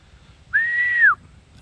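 A person gives a single clear, steady whistle lasting about half a second to call pigeons, close and loud over faint background noise, with a slight downward bend at the end.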